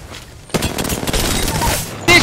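Apex Legends gunfire: a dense burst of rapid automatic shots, loud and close, with game sounds mixed in.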